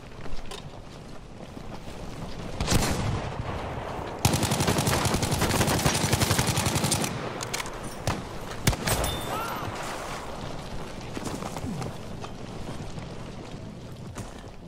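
Gunfire in the video game Battlefield V Firestorm: loud, dense bursts of shots with sharp cracks, a heavy stretch of continuous firing in the middle, then scattered single reports over a constant engine and wind rumble.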